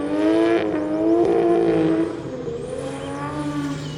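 A high-horsepower drift car, 400 to 500 wheel horsepower, revs hard on a wet, damp track at a grassroots Midwest drift event, a loud, close engine roar that holds steady and then eases slightly.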